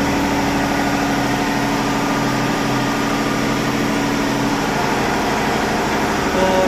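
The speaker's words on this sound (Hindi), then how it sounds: "जैसे ही लोड पड़ेगा जनरेटर की आवाज़ चेंज हो जाएगी" A generator engine running steadily nearby, a loud continuous drone with a mechanical hum that holds fairly even throughout, shifting slightly as electrical load comes on.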